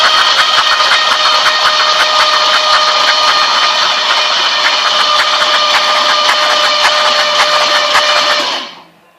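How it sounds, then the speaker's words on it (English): An Oldsmobile 455 engine turned over by a starter on a battery hookup gives a loud, steady mechanical churn with faint rhythmic pulsing for about eight seconds, then cuts off abruptly. "we had to hook up the battery and a starter and crank this thing over."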